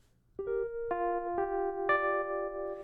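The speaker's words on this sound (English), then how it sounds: "I've chosen an electric piano sound" An electric piano sound in the Parawave Rapid granular synthesizer plays a few mellow sustained notes one after another, each ringing on with a soft bell-like tone.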